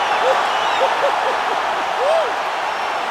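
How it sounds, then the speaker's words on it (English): Crowd noise from a UFC 4 video game fight rises in a broad, steady roar through the arena right after a knockout. The din runs continuously for the whole moment, with a few brief whistles or shouts rising above it. "crowd loving it"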